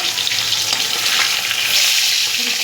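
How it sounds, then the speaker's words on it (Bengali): Pieces of rohu fish fry in hot oil in a pan with a steady, dense sizzle and crackle that holds at an even level throughout, and no one speaks. "মাছগুলো আগে ভেজে নিই।"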